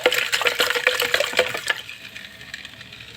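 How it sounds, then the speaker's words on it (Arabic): About a quarter litre of water is poured into a jar of pickles, a bubbling, splashing gush that runs loudly for a couple of seconds and then trails off into a quieter trickle. "حطيت كمان ربع لتر ميه"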